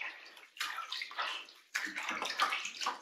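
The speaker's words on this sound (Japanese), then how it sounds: "はい、じゃあお湯変えるよ。" Warm bath water is changed during a kitten's first bath, with close splashing and pouring in two bursts separated by a brief quieter gap, all fairly soft.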